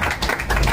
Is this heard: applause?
yes